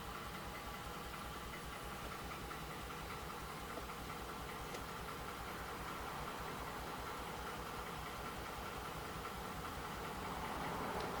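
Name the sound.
Ford F150 5.0 Coyote engine running with cylinder misfire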